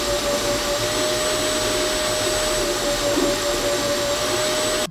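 A fast 3D printer rated to 1,200 mm/s runs loudly, whirring steadily with a constant high fan whine and broadband rushing hiss, unchanging throughout.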